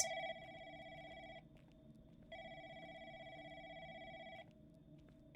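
A telephone rings in two long electronic bursts with a pause between them, faint and distant as if from another room of a call center.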